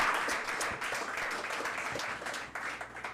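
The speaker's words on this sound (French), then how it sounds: "Je vous demande de les applaudir." Audience applause at a French-language reading contest, a steady wash of many hands clapping that holds at an even level for about three seconds, with a brief dip near the end.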